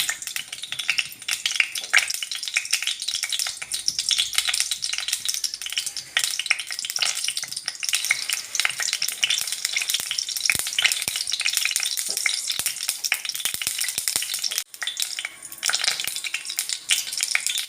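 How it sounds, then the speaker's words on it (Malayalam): Mustard seeds sizzle and crackle steadily in hot oil while onion pickle is prepared, a dense, continuous frying hiss with occasional sharp pops, close and loud throughout, with no voices. "എണ്ണ ചൂടായിക്കൊണ്ടിരിക്കുകയാണ് നമുക്കിനി കടുക് ഇട്ട് കൊടുക്കാം"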